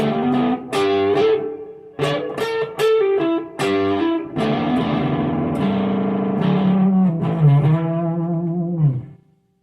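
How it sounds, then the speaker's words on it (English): A heavily fuzzed electric guitar plays chords and a sliding lead line, thick and saturated, ringing out before stopping abruptly. "It's kind of turning into like a fuzz type thing."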